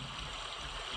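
Water effect from the Animal SFX bank of a Korg Grand Stage X stage piano: a faint, steady rushing hiss like a running stream, lasting about a second.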